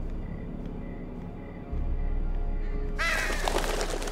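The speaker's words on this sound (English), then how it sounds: "Birds!" Crows caw in the Game of Thrones video game, a loud flurry of harsh calls breaking in suddenly over a steady low ambient rumble.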